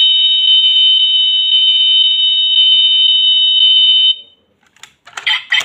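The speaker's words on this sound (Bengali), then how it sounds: "দরজা খুললে অ্যালার্ম বাজে শুরু করবে" A die-cast Bugatti model car from 2019 sounds its toy anti-theft alarm, a loud, steady high electronic tone held for about four seconds, then cut off, followed by a few faint clicks and rustles.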